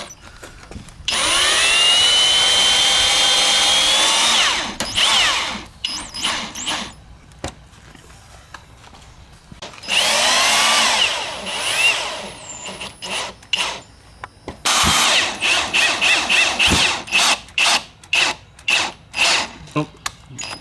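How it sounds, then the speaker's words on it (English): A power drill whirs in several bursts while a Tesla Wall Connector is installed, some runs long and sustained, others short and stuttering, with a person speaking briefly between runs. "did my drill break? Backwards?"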